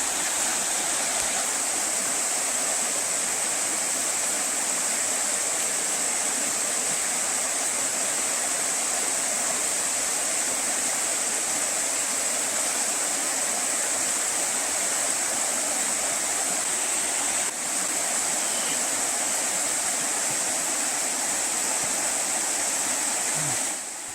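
A river in bear country flows with a constant, even rush of water that stays close and unbroken, with no talking over it.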